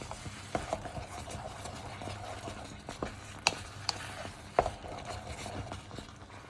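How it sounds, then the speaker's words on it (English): A spoon stirring thick sweet paste for sesame seed balls in a pot over heat, quiet repeated scraping and clicking against the bottom in an uneven rhythm, close and low, with no speech. "Be careful, it can get burnt at the bottom of the pot. So keep stirring."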